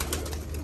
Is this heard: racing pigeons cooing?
yes